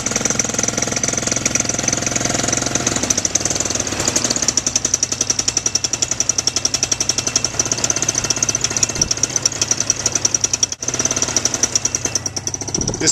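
A small model airplane engine fitted with a Gaskins flexible propeller runs steadily and loudly, with a fast, buzzing, rattling drone that holds nearly constant throughout, briefly dipping once near the end.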